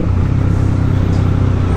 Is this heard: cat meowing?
no